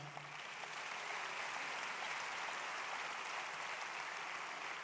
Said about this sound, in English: Is that how you clap?